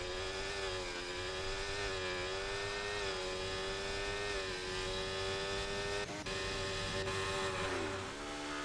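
Race cars roar around Circuit Gilles Villeneuve in a racing video game, a dense, steady engine drone with shifting pitch, occasional gear changes and brief tyre squeal, loud and continuous with no talk.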